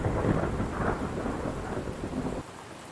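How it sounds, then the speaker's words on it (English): Steady rain and low rolling thunder from a storm in the Road to Vostok game fill the clip, dense and continuous, before the roar drops abruptly to a quieter wash near the end. "And I'm going to get rid of this rain"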